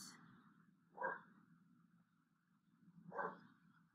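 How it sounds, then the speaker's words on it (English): A dog indoors gives two separate barks a couple of seconds apart, faint and somewhat distant over a quiet low hum. "I think you can hear my dog barking in this one too"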